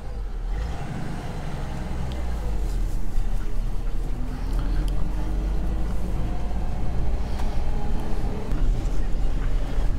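A 1967 Ford bumpside pickup with a three-speed column shift drives along, its engine giving a steady low rumble that rises slightly partway through, with road noise around it.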